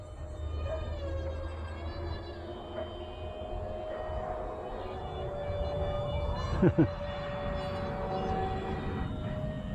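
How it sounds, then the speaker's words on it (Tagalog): Electric motor of an FX9630 J-20 RC fighter jet in flight, a steady whining drone that holds through the whole stretch with slight pitch shifts, joined near the end by a brief louder burst. "Parang hirapan yung motor niya eh."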